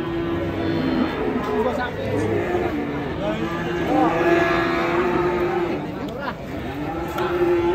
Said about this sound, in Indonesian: Sapi yang galak ini